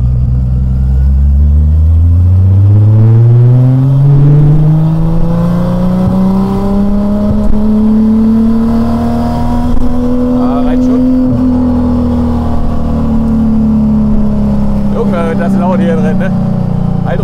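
A VW Golf engine revs steadily up toward about 6000 rpm and eases off, its loud rising drone sweeping upward over several seconds, close by, with a voice talking over it at times.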